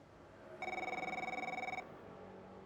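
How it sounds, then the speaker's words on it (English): A phone rings in the F1 23 video game, a bright electronic trill pulsing rapidly for just over a second, close and clear over a faint background hum, with no talk. "we're going to be getting a phone call here shortly"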